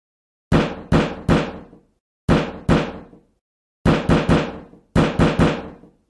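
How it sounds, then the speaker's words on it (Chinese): Heavy fist pounding on a garage door, loud and close, in bursts of two or three booming knocks with pauses between, each hit ringing briefly; no voices. "这个暴力的敲打着我的车库门的男子"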